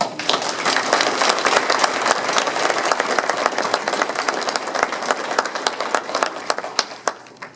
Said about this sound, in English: I want to take a moment to offer them a round of applause